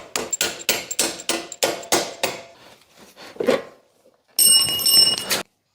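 Repeated metallic strikes as a motorcycle rear axle on a Kawasaki two-stroke is driven out with a makeshift tool instead of a hammer, about eight sharp close blows in quick rhythm, then a short grating scrape.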